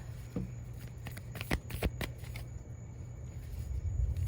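Tarot cards are shuffled up close for a card reading, a run of crisp riffling flutters and soft taps that fades into quiet handling.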